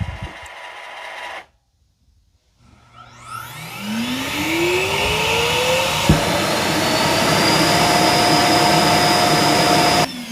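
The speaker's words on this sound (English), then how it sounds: "it's going to empty everything out that it put into its dust chamber" After a short silence, an iRobot Roomba base station motor spins up with a rising whine into a loud, steady vacuum roar, emptying the robot's dust bin, until it cuts off abruptly.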